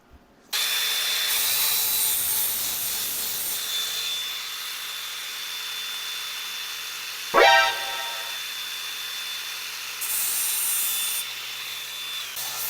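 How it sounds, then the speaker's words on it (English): Grinding during a 1984 Toyota Hilux 4x4 tray build: a continuous, loud abrasive power-tool rasp runs through most of the stretch, with one sharper scraping burst midway and a slight lift in intensity near the end, no talk. "wondering what that grinding sound was"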